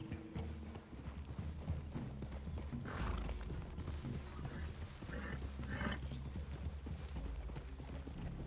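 Horses plodding in Red Dead Redemption 2, a steady clip-clop of hooves with creaking tack and low ambient rumble, a brief whinny-like call mid-way, moderately close and unaccompanied by talk.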